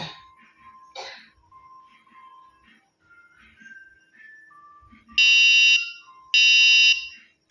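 A coin-operated timer board sounds two long, loud electronic beeps near the end, with a short gap between them, after several seconds of quieter background sounds.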